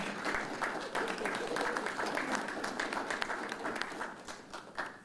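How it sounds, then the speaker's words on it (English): A podium event announcing the honorary chair of the World's Largest Pancake Breakfast, where an audience applauds a speaker with steady, dense clapping from a moderate distance, and voices can be heard under it. "there's usually a customary spattering of applause"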